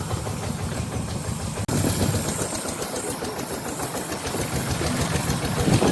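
Engine of a small rot ie taen farm tractor in rural Laos or Thailand chugs loudly and steadily close by for the whole stretch, with a brief dropout near the start and no talk.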